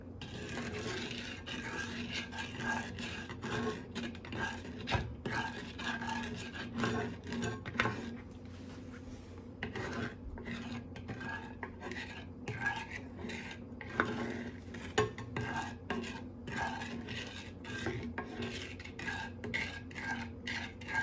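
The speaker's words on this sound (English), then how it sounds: "So now the sugar and the sauce, I'm going to stir until they dissolve." Sugar and sauce for cherries jubilee are stirred in a pan with a utensil. It makes a steady, close scraping and clinking that repeats in a loose rhythm throughout.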